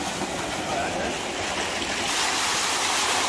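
Cold water flows steadily at a farmhouse, a continuous loud rushing wash that runs the whole time without pause.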